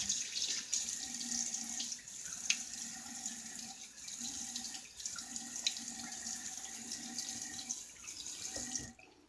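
Tap water runs steadily into a sink to rinse after a wet shave, a continuous close splashing stream that carries on for about nine seconds before cutting off at the end.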